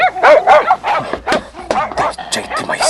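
Several dogs bark and yelp in quick, overlapping bursts, loud and close, with excited yips and whimpers throughout; voices seem to mix in at times.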